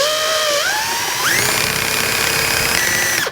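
A caramel eraser wheel on a power tool strips badge adhesive and tar from a Mercedes C-Class. It makes a loud, continuous whine that climbs in pitch in steps as the tool speeds up and bites into the surface.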